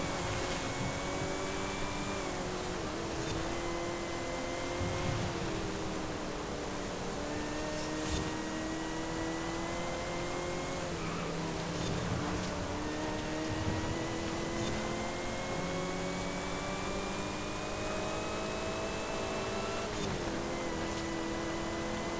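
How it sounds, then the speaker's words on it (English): Supercharged V8 car in Forza Horizon 5 running at very high speed, a steady loud engine drone with rising and falling harmonic sweeps as gears shift, a thin supercharger whine riding over the deep bellow throughout. "You got that supercharger whine over that V8 bellow, which is really, really good."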